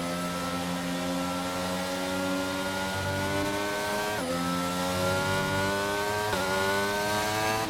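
A sim racing car on a wet track in a Ducati-themed race event at a French circuit holds a steady droning engine note, then drops pitch sharply twice as it downshifts into a corner, loud and close.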